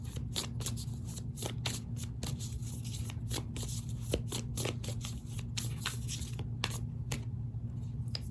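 Tarot cards shuffled by hand in a quick, steady run of close, crisp riffling flicks over a low constant hum, with no talking.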